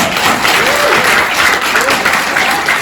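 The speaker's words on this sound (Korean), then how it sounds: "이 대장정의 길을 인도하신 하나님께도 영광의 박수 한 번만 드려주세요" Audience applause at a school debate festival closing ceremony, dense and steady throughout with faint whoops rising briefly above the clapping.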